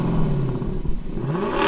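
A 2020 Lexus LC 500 coupe's engine revs, its tone dipping and then climbing sharply as the revs rise, loud and close with no talk.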